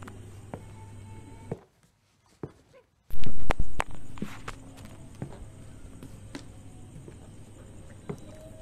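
Two people climb a spiral iron staircase, producing uneven clanking footsteps with a brief hush and then a sudden cluster of heavy, close metallic thumps.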